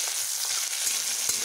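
Chopped tomatoes sizzle in a pan of hot oil with cardamom and cinnamon while cooking a ridge gourd dish, with a steady close hiss and a few faint clinks of stirring.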